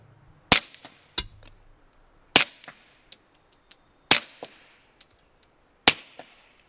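A 1911 pistol in .45 ACP fitted with a YHM R45 suppressor fires shots one at a time a second or two apart, each a sharp, muffled crack with a brief metallic clank of the slide, heard close in quiet surroundings.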